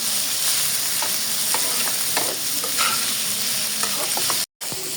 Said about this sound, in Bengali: দেখেন যে মাংসটা কিন্তু প্রায় কষানো হয়ে আসছে